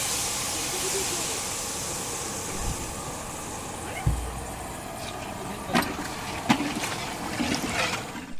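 Water poured into frying spice masala for mutton curry, giving a steady hissing sizzle with a few soft thuds and clinks from the pan, while a voice talks over it.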